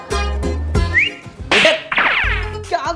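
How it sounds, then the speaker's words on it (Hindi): A man whistles loudly and up close at a restaurant table, calling a waiter with a few sharp, rising blasts in quick succession; no talk is heard during it. "सीटी क्यों बजा रहा है?"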